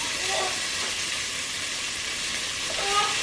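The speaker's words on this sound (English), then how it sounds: "See how it's sizzling away?" Steady loud sizzling in a hot pan, a constant crackling hiss throughout with no voices.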